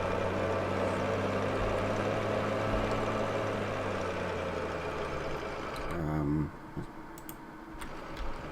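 A loud Massey Ferguson tractor engine in the video game Farming Simulator 15 drones steadily at close range, with keyboard clicking over it. The engine drops in level near the end.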